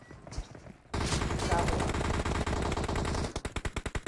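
Video game gunfire in a battle royale shooter: a sustained automatic burst roars for over two seconds after a quiet start, then breaks into a quick run of separate loud shots near the end.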